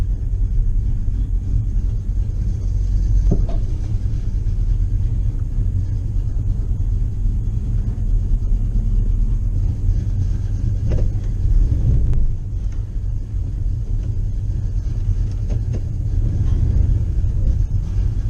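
Old pickup truck with 3.73 rear-end gears driving around a corner, its engine a steady, loud low rumble throughout with a brief dip midway, no talking.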